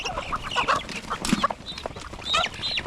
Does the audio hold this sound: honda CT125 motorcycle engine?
no